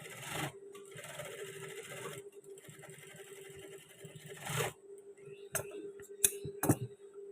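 A sewing machine runs in steady bursts while stitching a seam on long trousers, with short pauses between runs, followed by sharp clicks and scraping handling noises of fabric and tools.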